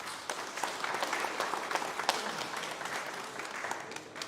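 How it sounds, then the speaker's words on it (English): An audience at a fishing talk event at a Ford dealership gives a round of applause, steady crowd clapping with a few sharper claps standing out, moderately distant and fairly quiet. "So how about we give them a round of applause?"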